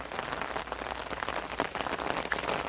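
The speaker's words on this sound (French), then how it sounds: "vous me voyez aujourd'hui sous les bois avec une pluie pas possible" Heavy rain pours down in the woods, a dense, steady patter of drops hitting leaves and ground nearby with scattered louder splats and no voices.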